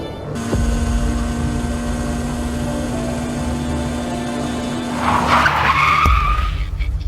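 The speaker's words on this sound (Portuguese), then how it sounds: "Senna bateu forte." A Formula 1 race car at Imola during the 1 May 1994 race, heard as a loud, steady engine drone with hum that erupts into a harsh skid and tire screech near the end as it crashes.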